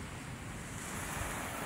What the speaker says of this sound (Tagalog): Ayan, gumalaw na naman yung dagat, oh.